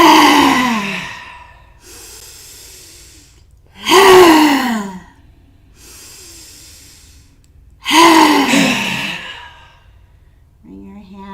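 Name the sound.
breathing exercise, deep inhales and exhales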